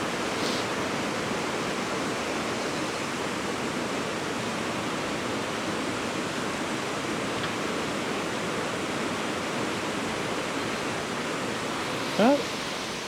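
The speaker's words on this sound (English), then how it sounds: "Bit of a waterfall going on here," A waterfall, or several small falls, pours near a river close to the centre of Hebden Bridge, giving a steady, dense rush of water that fills the whole clip, with a brief bird chirp near the end.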